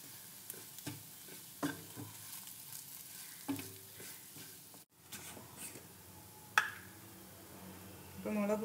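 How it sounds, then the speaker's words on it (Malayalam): A spoon stirs chili powder into a pan for a coconut-free fish curry, giving quiet, intermittent scraping strokes with faint sizzling underneath and a sharper clatter near the end. "ഇനി നമുക്കിതിനെ നന്നായിട്ട് മിക്സ് ചെയ്ത് കൊടുക്കാം."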